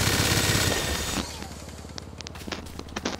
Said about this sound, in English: I'm gonna shoot bullets in the air.